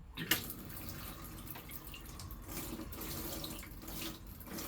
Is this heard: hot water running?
yes